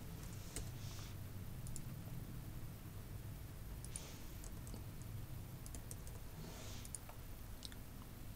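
Faint, sparse keystrokes on a computer keyboard, a few soft clicks and short bursts of tapping scattered over a quiet background hum with no talking.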